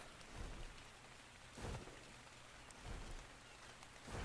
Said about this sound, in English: Why does it have to be raining?